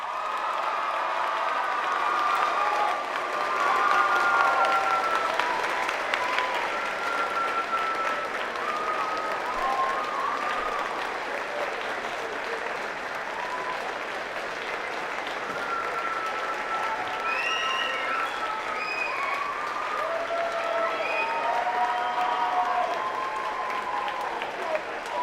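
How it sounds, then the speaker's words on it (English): A school awards-night audience gives sustained applause for a Purple Pro Award recipient, a broad, even wash of clapping from a crowd that continues steadily throughout at a moderate, slightly distant level. "please join me in giving a huge round of applause to this year's Purple Pro Award recipient"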